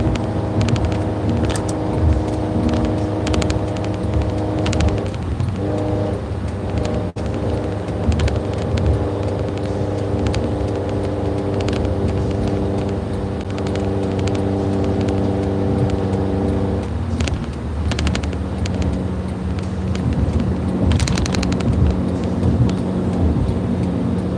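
Sustained car engine drone in a video game, a steady loud tonal hum with harmonics that dips and shifts pitch slightly as the car struggles uphill, continuous throughout.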